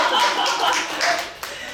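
Audience in a university special lecture on sustainable development politics and global citizenship claps for a sharp question, a dense, steady patter of hands filling the room throughout.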